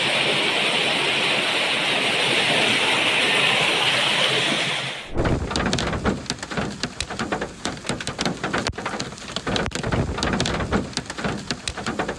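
Heavy rain pours down in a dense, steady hiss, then shifts to louder, close splattering and drumming of drops on a surface.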